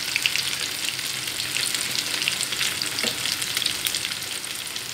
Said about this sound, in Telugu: ఇదిగోండి వేగుతున్నాయి కదా.